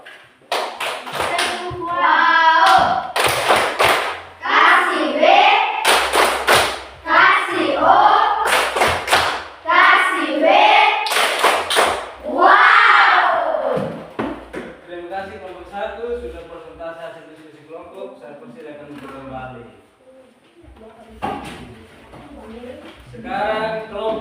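A classroom of students claps in a rhythmic patterned routine of sharp tapping bursts and calls out together. Talking voices then continue over a quieter stretch.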